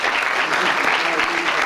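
A brief, loud burst of audience applause at a book presentation in a lecture hall, many hands clapping densely and continuously throughout, with a faint murmur of voices mixed in.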